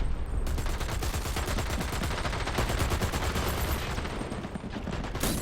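Sustained, loud video game gunfire during a competitive match, rapid automatic bursts crackling continuously with barely a break, no voices on top.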